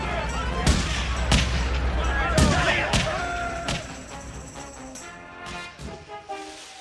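Gunfire in a 1990 sci-fi comedy film scene: scattered loud shots and thuds at irregular intervals, some sharp and close, mixed with shouting voices and ringing effects.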